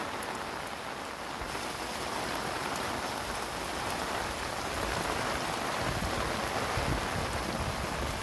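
Heavy rain at Mangla Dam pours down in a dense, steady hiss of drops hitting water and surfaces, loud and unbroken throughout, with no voices.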